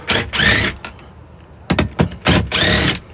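A power drill or impact driver removing 10 mm suspension bolts from a Toyota Matrix XR whirs in several short bursts, loud and close, with brief pauses between runs.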